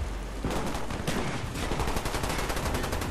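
Automatic gunfire in the shooter game Call of Duty Black Ops rattles in loud, rapid continuous bursts, close and dense for the whole stretch without speech.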